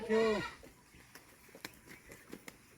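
A goat on a farm gives one clear, fairly close bleat while being fed fodder, followed by quieter rustling and small knocks from the animals eating.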